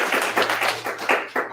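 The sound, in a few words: seminar audience clapping for themselves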